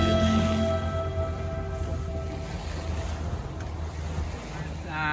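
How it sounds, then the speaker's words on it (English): A steady westerly wind of about 14 knots blows over a sailing boat, giving a continuous broadband roar with water and hull noise underneath and no talking. "It's supposed to be westerly winds, and we've got them."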